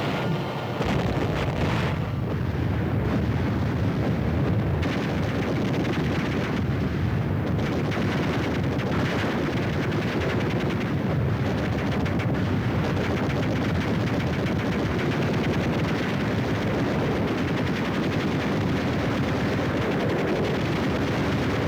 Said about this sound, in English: it adds still more power to the frightening wall of fire which supports our fighting men.